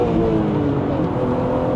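BMW Z3M Coupe with an M3 engine revving, a loud close steady engine drone held at high revs for a moment, with no voices.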